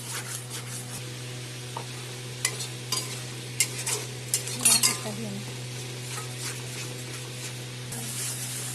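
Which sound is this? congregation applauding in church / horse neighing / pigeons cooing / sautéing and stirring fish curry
sautéing and stirring fish curry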